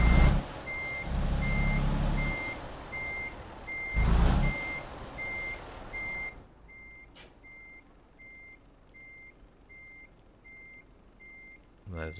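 A truck backs up toward a trailer on German roads, its reversing alarm sounding a steady, evenly spaced series of beeps throughout, over low engine rumble that grows louder in bursts early on, then settles to a quieter idle.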